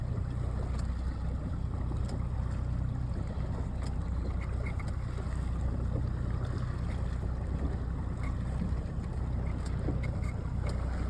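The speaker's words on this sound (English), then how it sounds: "that crosses this creek channel right here, and we're going to idle across it" A fishing boat idles across a creek channel. Its engine hum is low and steady under wind and water noise, with no talk.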